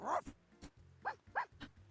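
A small puppy in a video game lets out a quick series of high, sharp yaps, four or five short barks in an uneven rhythm, close and fairly quiet.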